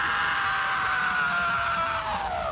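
A person lets out a sustained, loud scream in a scream class, a single continuous high-pitched cry lasting a couple of seconds with no talk over it.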